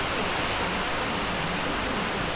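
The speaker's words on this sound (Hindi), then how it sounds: "देखो तो कैसा पानी गिरा थे" Heavy rain pours down in a dense, unbroken roar, loud and steady like a constant hiss of water hitting surfaces all around.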